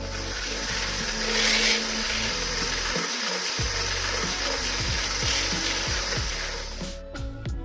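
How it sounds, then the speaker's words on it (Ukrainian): An electric hand mixer whips cold egg whites with a pinch of salt at high speed, giving a steady, close whirring drone with beaters clattering against the bowl, briefly changing pitch midway and cutting off near the end. "до холодних білків додаємо дрібку солі і збиваємо на високих обертах міксера до утворення піни"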